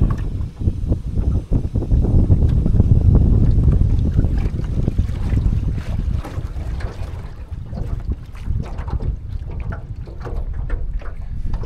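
Lowe 1236 12-foot boat driven in reverse by a 38 lb Makita electric trolling motor, a steady low churning rumble with water wash and wind buffeting the microphone throughout, no talking.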